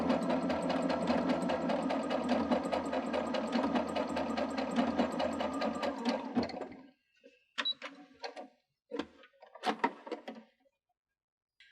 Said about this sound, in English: stitch a little slowly on this one so that it stays nice and straight